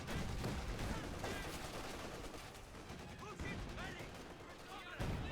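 An artillery barrage pounds positions in Company of Heroes 2, a dense, continuous clatter of gunfire and blasts at low volume with a few louder thuds, under a commentator's talk.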